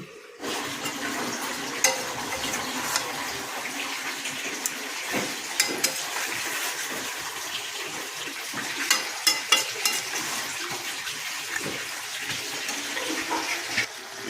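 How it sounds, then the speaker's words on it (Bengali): Chicken curry with whole chillies braises in a covered pot, giving a steady hissing simmer with soft bubbling and faint crackles that continue evenly throughout, with no voices. "ব্যাস, ঢাকা দিয়ে একটু কষাতে দিয়েছি।"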